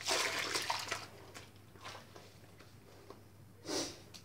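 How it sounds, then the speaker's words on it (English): A human hair wig is swished and squeezed in a basin of lukewarm shampoo water, giving soft close sloshing and splashing surges with quieter pauses between them. "put my wig into the shampoo water"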